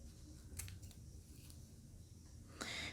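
Scissors snip through the end of synthetic braiding hair, giving a couple of short, crisp clicks near the start and another near the end against a quiet background.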